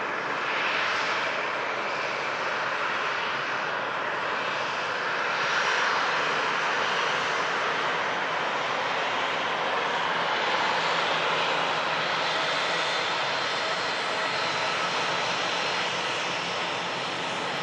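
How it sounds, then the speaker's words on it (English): A Ryanair airliner arriving from Bordeaux passes with a steady, broad engine roar, loud and sustained throughout with a gentle swell midway, heard alone without talk. "This Ryanair just arrived in from Bordeaux."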